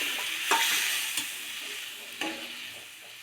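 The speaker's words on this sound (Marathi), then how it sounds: "परतवून घेतलेल्या मसाल्यामध्ये आपण आता छोले टाकून घेणार आहोत." Chickpeas (chole) being added to and stirred through a frying onion-tomato masala, with a continuous soft sizzle broken by a few sharp scraping stirs of a spoon against the pan, close up and without speech.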